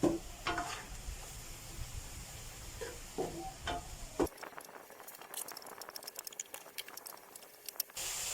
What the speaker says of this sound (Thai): พอกลิ่นหอมแล้วก็จะใส่อกไก่ลงไปผัด